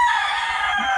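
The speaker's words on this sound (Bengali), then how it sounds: "মোরগ ডাকছে।" A rooster crows in a village near the Sundarbans in Khulna just after a rain shower, one sustained, bright call filling the whole moment, fairly close and loud.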